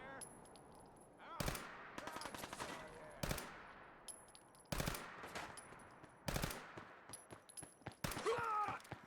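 Gunfire in the video game Fallout 4, modded, with repeated loud bursts of rapid shots in clusters, separated by brief quieter gaps of game ambience.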